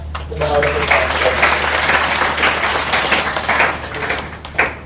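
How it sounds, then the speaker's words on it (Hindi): An audience at a poetry and tribute event in Udaipur claps for a guest named Ravindra, uneven bursts of many hands over a low hum, with a louder clap near the end. "छोटे भाई रविंद्र जी के लिए भी एक बार जोरदार तालियां।"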